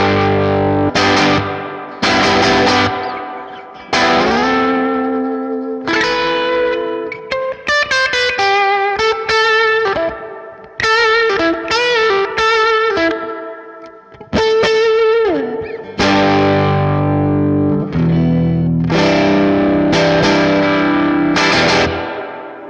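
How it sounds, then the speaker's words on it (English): Electric guitar run through a Color Box pedal set as a first-stage overdrive, thick and fat-sounding distorted chords and riffs played loud and close, alone without talk. "From there it goes to the color box, which right now I'm using as kind of my first stage overdrive."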